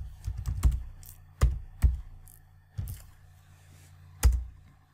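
Several separate keystrokes on a computer keyboard entering a file name in a quiet room, with irregular clicks and short pauses between them, fairly close and alone.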